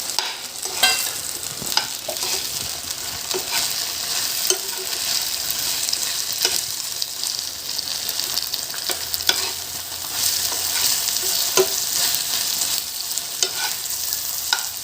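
Fried cauliflower is tossed into Manchurian sauce in a pan, a constant frying hiss with frequent spatula scrapes and light taps against the metal, close and steady, without talking.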